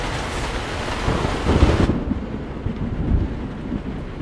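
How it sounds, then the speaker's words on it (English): Torrential rain pours down with a deep rumble of thunder swelling near the middle in American Truck Simulator, a steady heavy wash of rain continuing after. "Got some massive like torrential rains going on."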